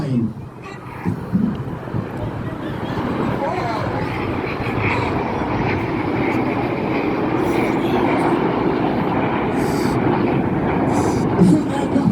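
Red Arrows display jets flying in formation at an Armed Forces Day show in Ryde, Isle of Wight, producing a steady, loud, broad engine roar that persists throughout, with a commentator's voice talking over it.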